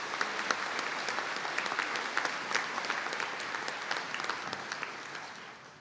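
An audience at a Donegal graduate conferring ceremony gives the graduates a round of applause, many hands clapping in a dense, even wash for several seconds, fairly distant and tapering off at the end.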